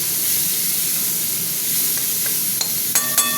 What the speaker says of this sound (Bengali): টমেটোটা একটু ভাজা ভাজা হবে